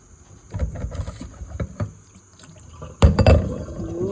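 Cassava leaves are swished and squeezed in a basin of water, giving soft irregular splashes and sloshes that grow louder near the end, with no talking.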